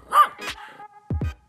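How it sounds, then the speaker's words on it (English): A dog barks twice in quick succession at close range, two short sharp yaps preceded by a brief higher yelp and a sniff-like noise. "dog."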